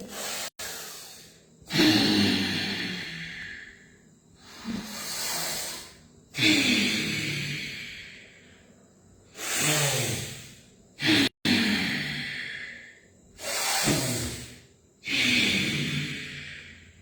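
Noisy, incorrect breathing during Anuloma Viloma pranayama: about six loud, hissing breath bursts, each a few seconds long with short pauses between, close up and with no talking.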